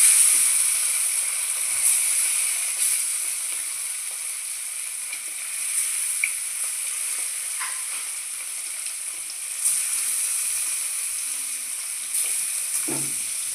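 Silver carp pieces frying in hot oil in a home kitchen, giving a steady, dense sizzle that holds throughout, close and even, with faint clinks and stirring now and then.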